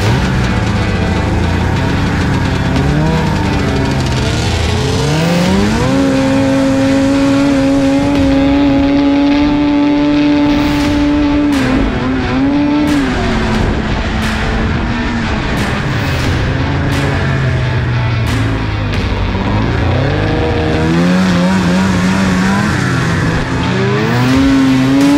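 Old Arctic Cat ZR and ZRT 600 snowmobiles ride through deep snow, their two-stroke engines droning steadily and close with rising and falling revs for the whole stretch.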